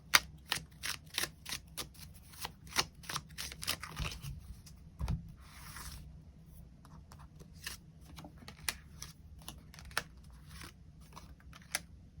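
Tarot cards are shuffled close up, with quick rapid riffles and slaps in a dense, steady rhythm, briefly interrupted by a soft rustle.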